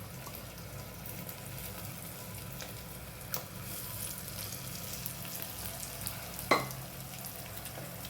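Rice is stirred into sautéed ingredients in an oiled pan with a faint, continuous low sizzle and a few soft scraping knocks of the spoon.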